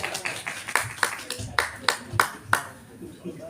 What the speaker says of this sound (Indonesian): Ya tepuk tangan dulu, tepuk tangan.